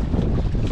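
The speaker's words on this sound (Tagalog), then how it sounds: "Malakas ang hangin" Strong wind buffeting the microphone with a dense, low rumble, steady and loud throughout the short moment.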